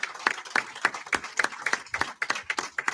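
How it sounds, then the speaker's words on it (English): A crowd applauds military veterans during a Chicago Bears pregame before a game against the Patriots, with steady dense clapping throughout. "Let's give all of them a big round of applause for fighting for our country."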